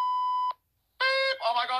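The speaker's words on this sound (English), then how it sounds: "Are you a smoke detector?" Loud electronic alarm beeping, a steady high tone that cuts off after half a second, then a second burst of harmonic beeps run straight into shouting voices.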